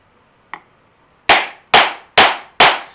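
A mallet strikes a bear-design stamp into leather, one light tap followed by four loud, sharp, evenly spaced blows, close up in a quiet room with no talking.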